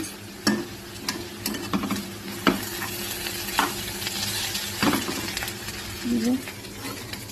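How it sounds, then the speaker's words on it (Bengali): Potatoes frying in a pan in a home kitchen, a soft steady sizzle punctuated by sharp clinks and scrapes of a utensil stirring every second or so. "যে আলু ভাজা করছি।"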